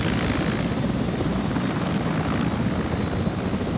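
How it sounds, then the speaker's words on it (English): Helicopters carrying a five-man air assault team in a large multiplayer combat game, a loud continuous rotor and engine roar with dense chopping texture, steady and close throughout with no talk. "the helicopters are going to pull back"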